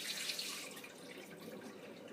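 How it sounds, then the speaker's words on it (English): Steady running water from a kitchen tap rinsing raw rice in a pot for jollof rice, a continuous close hiss and gurgle throughout with no talking. "So you want to rinse out all the starch."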